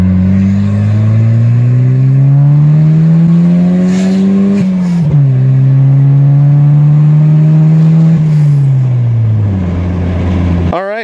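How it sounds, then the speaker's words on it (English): A turbocharged car engine accelerates loudly up through the gears, its steady climbing drone broken by quick shifts and a settling pitch near the end, heard close from the car. "Boost was hitting fantastic, normal, spooling as quick as it should."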